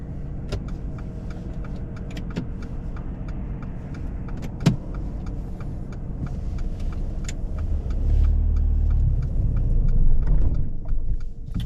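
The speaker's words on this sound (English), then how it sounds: "You just stalled." A car on a UK mock driving test idles with light interior clicks and knocks, then the engine strains and rumbles louder while pulling away near the end before it stalls.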